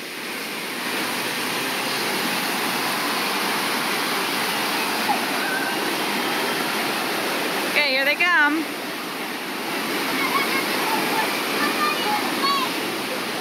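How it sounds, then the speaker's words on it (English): A waterfall roars steadily beside a boat ride at Islands of Adventure theme park, a constant rushing wash heard from a short distance, with people talking over it and a brief squeal midway. "See on this side when they come by this waterfall."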